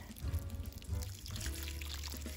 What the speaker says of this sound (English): So we're going to water now these strawberries